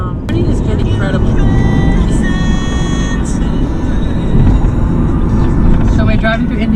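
Car cruising along a road in Indiana, a steady loud engine and road rumble throughout with faint rattles, while people talk over it.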